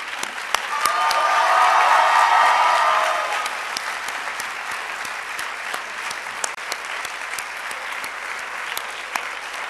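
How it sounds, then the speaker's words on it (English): A closing-ceremony audience claps loudly for the first few seconds, a brief vocal cheer riding on top, then the applause thins to scattered claps for the rest. "I think that you can also applaud Marceau."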